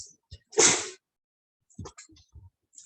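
A single loud, sharp sneeze bursts out near the microphone after a faint click, followed moments later by brief indoor talk.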